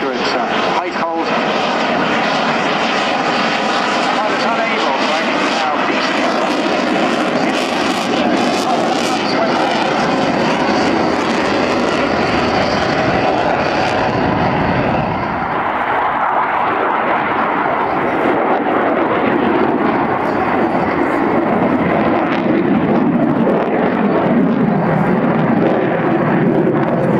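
Czech Air Force Saab JAS 39 Gripen fighter jet in a flying display at an air show, its loud engine roar continuous and sweeping as it manoeuvres close by, with a voice commenting underneath.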